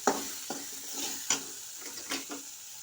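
Tomatoes sauté in a pan for a fish curry, with a light sizzle and a few sharp spatula taps and scrapes at uneven intervals, close and moderately quiet.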